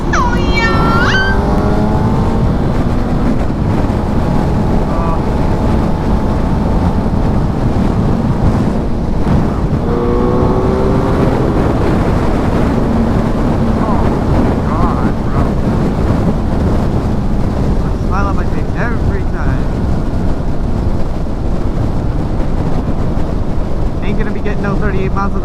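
Motorcycle riding with a constant heavy roar of wind buffeting the camera-mounted microphone, loud and unbroken throughout, with the engine tone faintly rising and falling beneath.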